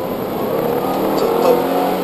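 A Subaru Impreza GC8 engine, about twenty years old, hums loudly from inside the car while driving, a steady rising rev with a strong tonal drone and no voices.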